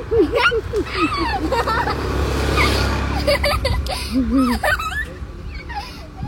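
A car rumbles past, swelling and then fading in the middle, while people talk and a small child makes high squeaky sounds nearby.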